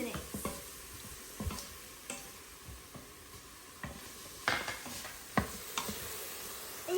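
Garlic, salt and bay leaves sautéing in a pan, a soft sizzle beneath a string of light spoon scrapes and taps as the mixture is stirred, quiet and close, with no talking.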